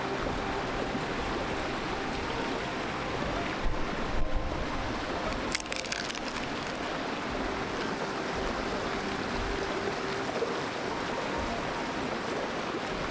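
A creek flows beside a campsite in the Eastern Sierra, making a steady, full rush of running water with gusts of wind over it throughout.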